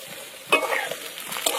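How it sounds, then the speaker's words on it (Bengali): Potatoes frying in hot oil in a pan for a Bengali curry, stirred with a utensil: a soft steady sizzle broken by a few scraping, clattering stirs, close and alone with no talk. "আলু ভালো করে একদম লাল করে ভেজে নিতে হবে।"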